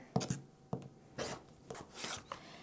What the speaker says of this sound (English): I'll make my first cut